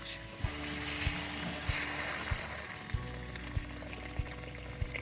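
Water gushes steadily from a camper tap during de-winterizing, a constant hiss, with faint regular clicks ticking about twice a second underneath.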